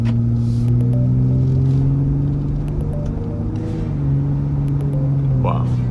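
A 2022 Ford F-150 Raptor pulling away from a stop, a low steady engine rumble heard from inside the cab with a gradual rise in pitch as it gathers speed, fairly close and continuous.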